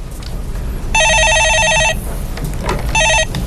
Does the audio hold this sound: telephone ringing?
yes